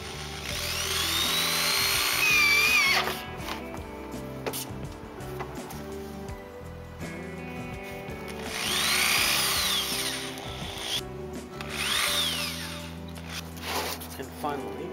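A power drill driving three screws while assembling a homemade screen-printing exposure unit, with whining bursts rising and falling in separate runs, and a person talking in between.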